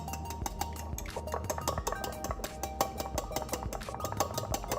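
Eggs and coconut milk being whisked in a bowl, with rapid clinking of a utensil against the bowl at close range and no talking.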